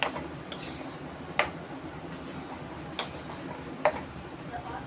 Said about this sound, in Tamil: இப்போ வந்து இதை எல்லாம் நல்லா கலக்கி விட்டுக்கிறோம்.